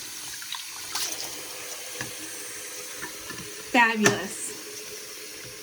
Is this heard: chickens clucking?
no